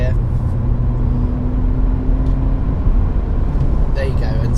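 Audi A4 2017 engine rising as the car accelerates toward 70 mph, a steady loud road and engine drone with tyre rumble throughout, and someone talking over it.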